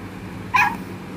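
A pet dog gives a single short, high yelp-like call when coaxed to bark, heard close and alone against a quiet indoor background.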